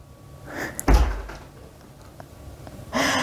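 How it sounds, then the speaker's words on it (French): Cats push open an apartment building's entrance door, giving one sharp loud thump followed by quieter rustling and a later burst of broadband noise nearby. "Les petits chats ont ouvert la porte."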